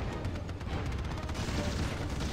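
Gunfire in the video game Act of War: High Treason, a dense, loud rattle of rapid shots and booms that fills the whole moment without a break, with no clear single report standing apart.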